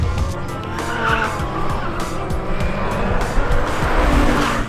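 Czinger 21C 3D-printed hypercar on a race track, loud tyres skidding and squealing over a rising and falling engine, close and continuous with no talk.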